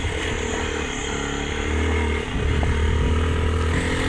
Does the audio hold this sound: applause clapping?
no